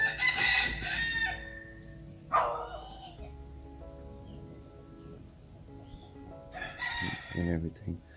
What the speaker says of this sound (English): You hear the chickens in the background.